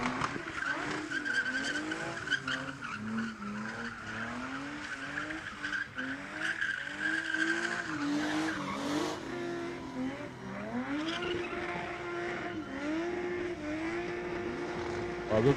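Stock cars racing on an oval track, engines roaring loudly and continuously while tires skid and squeal through the corners, with pitch rising and falling as the cars pass.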